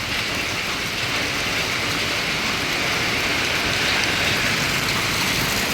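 Heavy rain falls in front of a house onto a flooded road, a steady, thick hiss of downpour that stays constant and fairly loud throughout, with no talking.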